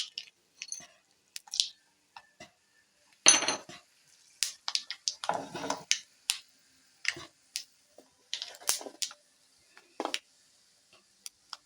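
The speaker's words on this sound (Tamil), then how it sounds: "சூடான எண்ணெயில் கடுகு, உளுந்தம் பருப்பு போட்டுக்கிறோம்" Mustard seeds and urad dal splutter in hot oil, heard up close as sparse, irregular pops and crackling bursts separated by brief quiet gaps, with no talking.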